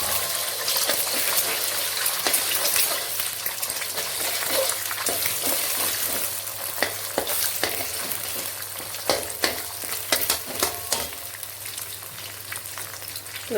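Three eggs drop into very hot oil, reused from frying chicken, in a kadai and fry with a steady, close, loud sizzle, scattered sharp crackles and pops throughout, with no talking.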